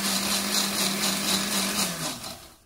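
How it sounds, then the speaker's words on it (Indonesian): A kitchen blender whirs steadily, processing dried chili with a little water for a Malaysian mussel coconut curry; the motor hums continuously and fairly close, then winds down near the end, with no talk. "Kita kasih masuk sedikit air. Baru kita blender."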